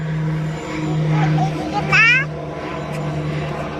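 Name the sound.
airplane flying overhead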